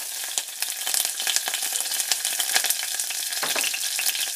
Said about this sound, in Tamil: இப்போ இந்த நேரத்தில் நான் கடுகு, உளுந்தம்பருப்பு, வெந்தயம், அப்புறம் இந்த கருவேப்பிலை இருக்கு இல்லையா, அதை போடுறேன்